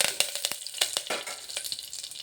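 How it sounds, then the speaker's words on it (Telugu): Spices crackle and pop in hot oil, tempering for gongura chutney, a busy close sizzle with quick irregular spatters and no voices. "చూసారా తాలింపు పెట్టేశాను"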